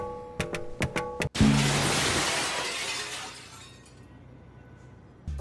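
Glass smashing in an action film scene: a few sharp clinks, then one loud close shatter that sprays into a long trailing hiss of falling shards before fading.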